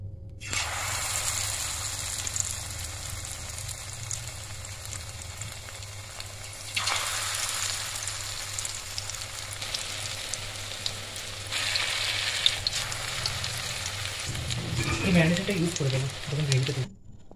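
Hot oil sizzles and bubbles steadily as chicken pieces are added one by one, the frying surging louder in bursts, with light clatter near the end.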